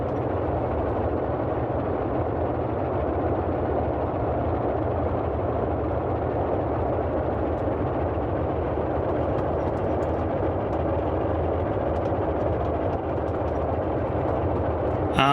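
Twin radial engines of a Boeing 247D in the MSFS 2020 flight simulator drone steadily at takeoff power, a loud, even, continuous roar with no change in pitch and no voices.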